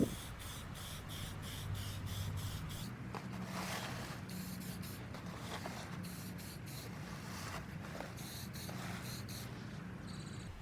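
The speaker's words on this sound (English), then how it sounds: "I'm just going to take some flat spray paint in black." Flat black spray paint hisses from a can in several bursts of varying length, a steady airy spray with short gaps between passes, close and moderately quiet.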